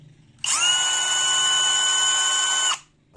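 Cordless drill powered by a homemade 18V battery pack built from laptop cells spins up sharply, holds a steady high whine for about two seconds, then winds down. Heard close and loud, with no talking.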